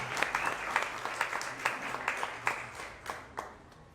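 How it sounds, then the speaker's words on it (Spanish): An audience claps for the authors at the launch of a poetry book. The applause is moderate and steady, with distinct individual claps standing out, and it fades slightly toward the end. "podamos darle un fuerte aplauso a los autores de esta importante obra"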